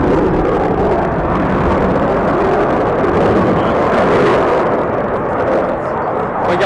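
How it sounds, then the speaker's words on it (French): A jet airplane roars continuously overhead during an aerobatic display at the Paris Air Show, a loud, broad rushing thunder that swells and fades slightly without pause. "le pilote manœuvre son avion."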